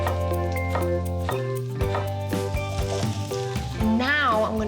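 Zucchini added to a hot pan sizzles softly and steadily under a speaking voice and faint background music.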